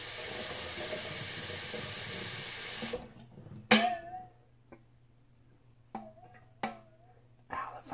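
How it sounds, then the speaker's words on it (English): Water runs steadily from a kitchen tap for about three seconds, a dense broadband rush that then cuts off, followed by scattered sharp clinks and light handling noises of cups or utensils. "let's get some water going"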